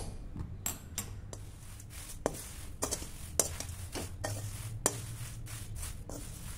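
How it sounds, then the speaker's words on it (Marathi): Poha being dry-roasted over a low flame in a large kadai, with steady scraping and stirring strokes of a spatula against the metal pan. A soft, dry rustle runs underneath, close and continuous, and no one speaks. "मंद गॅसवर असं पोहे भाजून घ्यायचे, मोठा गॅस ठेवायचा नाही"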